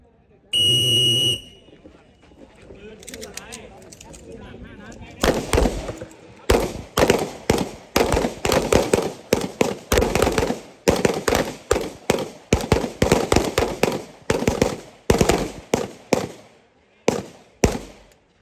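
Handguns fired during a combat shooting drill on a range, a buzzer or whistle tone first, then a long run of rapid, loud, overlapping shots from several shooters, with brief pauses.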